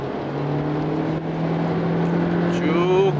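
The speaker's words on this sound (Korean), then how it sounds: "쭉 가속을 할 때 엔진 사운드도 제법" Engine of a fifth-generation Toyota Prius pulling under acceleration, a steady hum that climbs slightly in pitch toward the end, heard from inside the cabin with a constant drone underneath.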